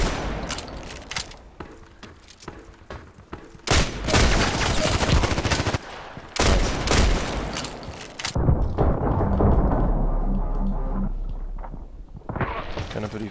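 Rapid gunshots from an IZH-43 double-barrel shotgun in the shooter game Contract Wars: loud, sharp blasts in quick bursts with brief pauses between, alongside other gunfire and occasional game effects.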